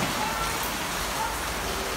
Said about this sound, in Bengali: তো বাইরে প্রচুর বৃষ্টি